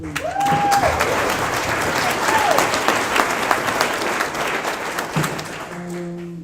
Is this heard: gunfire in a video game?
no